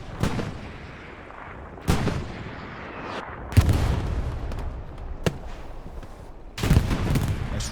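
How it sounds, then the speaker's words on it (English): Rocket explosions and gunfire in the video game Hell Let Loose: sharp broadband blasts around 0.2, 1.9, 3.6, 5.3 and 6.7 seconds, each with a short rumbling tail, over continuous battlefield noise. "Nice rocket by Libby."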